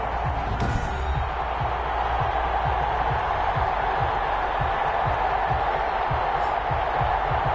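A stadium crowd roars in the video game Madden 21 ahead of a Jacksonville Jaguars versus Houston Oilers matchup, a steady dense wash of cheering under a commentator's voice, with low rhythmic thumps throughout.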